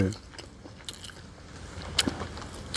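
Someone biting and chewing a mouthful of dry, uncooked instant noodles outdoors, close crunchy bites and grinding chews with a few sharper cracks, under light background noise.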